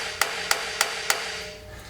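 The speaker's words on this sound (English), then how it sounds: "Now we hammer from the bottom." Hammer blows driving out a seized front suspension bolt on an S550 Mustang, four sharp metallic strikes evenly spaced about a third of a second apart, close and loud, then quiet.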